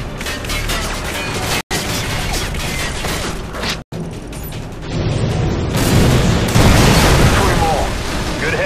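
Missile strikes in the Call of Duty Modern Warfare 2 Spec Ops game land as loud booming blasts with rumbling debris, building to a dense roar of explosions in the later seconds.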